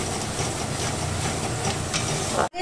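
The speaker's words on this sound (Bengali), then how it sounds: "আমি এটাকে খুব ভালো করে পেঁয়াজটাকে আর আদা রসুনের পেস্টটাকে ভালো করে কষিয়ে নেব" Onion and ginger-garlic paste sautéing in a pan, producing a loud, dense, continuous sizzle and crackle close up that cuts off abruptly at the end, with no voices.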